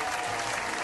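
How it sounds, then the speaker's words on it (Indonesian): A brief burst of audience clapping for Lord Rangga on an Indonesian talk show, dense and steady at moderate loudness, lasting under a second. "Tepuk tangan untuk Lord Rangga"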